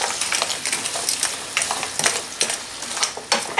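Prawns (mazzancolle) and potatoes frying in hot oil in a pan, a steady close sizzle broken by scraping and clinking from stirring, with no talk.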